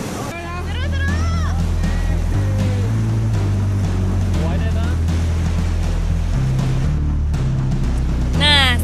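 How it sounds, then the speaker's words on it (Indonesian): Water rushing during rafting on the Ciwidey River, a steady, fairly loud wash of river water heard close, with voices and shouts over it. "Riak Sungai Ciwidey sangat menggoda untuk diarungi"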